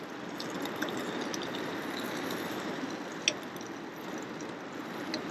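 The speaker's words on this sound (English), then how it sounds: "instead of laying the bacon flat out, I'm going to have to kind of slosh it around in the pan a little bit." Bacon sloshes around in a frying pan at a freezing-weather riverside campsite, making a steady, close hissing sizzle with one brief clink partway through.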